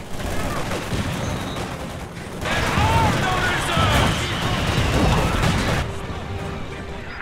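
Flame mortar strikes in the Company of Heroes 2 battle bring bursts of gunfire, booming impacts and crashing debris that swell louder midway, with unit voices talking over the din.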